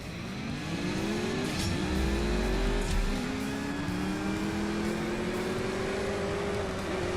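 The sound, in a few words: race car accelerating in CSR2 Racing video game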